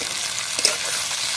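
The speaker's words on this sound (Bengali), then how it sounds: "পেঁয়াজ আর টমেটো একসাথে ভালোভাবে ভেজে নেব" Onion and tomato fry together in a pan with oil, giving a continuous loud, close sizzle with a brief stirring clink near the middle.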